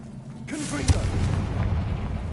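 A Confringo explosive spell goes off in Hogwarts Legacy: a sharp, booming blast strikes near the start and fades into a rumbling tail, following a brief spoken word.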